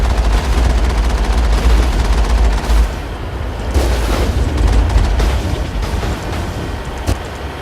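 Gunfire in the Mass Effect video game, a loud and continuous fusillade of rapid shots with booming impacts, firing against snipers.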